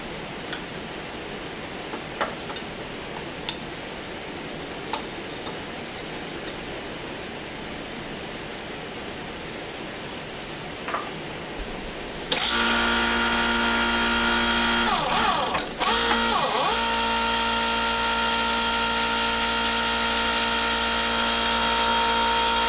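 A broach cuts a keyway in an LS crankshaft blower drive hub: quiet workshop ticks first, then a loud, steady machine drone with a sudden shift partway through, close and unbroken.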